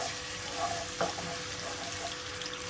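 Garlic stirred in hot oil for a Bengali wood apple pickle, a steady low sizzle with faint scraping and a brief clatter near the middle, fairly quiet and without talk.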